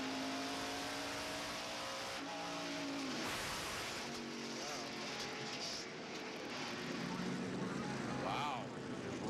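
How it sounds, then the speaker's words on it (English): In-car sound from a Ford NASCAR race car at the 1994 Food City 500, a loud droning engine roar that rises and falls in pitch, with broadcast commentary over it. "Here's the in-car from Mark."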